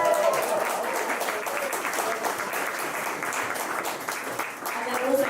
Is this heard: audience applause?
yes